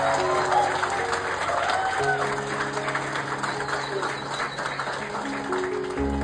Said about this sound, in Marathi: प्लीज जोरदार टाळ्या निशांतसाठी